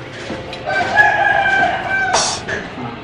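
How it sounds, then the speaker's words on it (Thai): A rooster crows once in a long, drawn-out call, loud and close, outdoors during a shrimp and chicken grilling cook-off. "ตอนนี้ไก่ก็หยุดขันไปแล้วนะฮะ"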